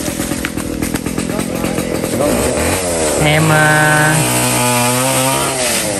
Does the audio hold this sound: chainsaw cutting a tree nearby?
yes